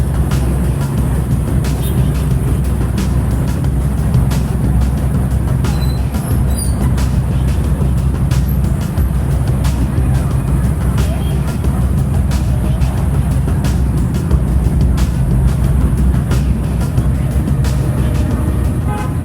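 Dense rush-hour street traffic in Ho Chi Minh City, Vietnam, dominated by motorbikes. A loud, steady wash of engine rumble and road noise fills the whole stretch, with no quiet gaps.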